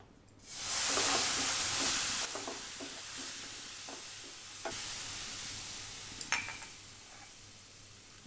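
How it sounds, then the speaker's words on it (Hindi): Milk poured slowly into semolina in a pan for kheer, stirred with a spoon, bringing a loud hissing surge that settles into steady sizzling, with occasional light scrapes and taps of the spoon. "अब मैं इसमें धीरे धीरे डालूँगी और इसे चलाऊँगी।"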